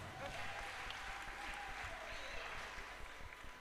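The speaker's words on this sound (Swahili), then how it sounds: "Wapigiwe makofi zaidi" A church congregation at a Kikuyu-language PCEA parish service applauds steadily, a dense continuous clatter of many hands filling the room, with a voice faintly audible over it.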